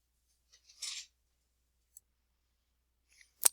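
A computer mouse clicks a few times on a quiet desk, with sparse, faint, brief taps and one sharper click at the end, with no talking.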